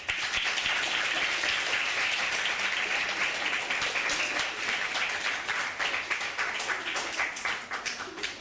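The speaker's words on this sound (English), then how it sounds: "Clap is in order." Delegates in a Model UN assembly session applaud after a bill passes, sustained clapping from a roomful of people that gradually thins toward the end.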